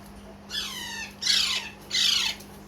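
A baby plum-headed parakeet gives three loud, harsh squawks in quick succession, close up, with short pauses between each call.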